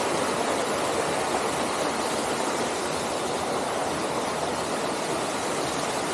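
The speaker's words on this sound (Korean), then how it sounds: "비렴 폭포" Biryeom waterfall on Chiaksan mountain in Korea roars with a steady, dense rush of falling water, loud and unbroken throughout with no voices.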